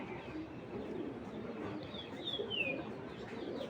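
A female long-distance racing pigeon coos softly and nearby, with low murmuring calls and a brief higher chirp over quiet background noise.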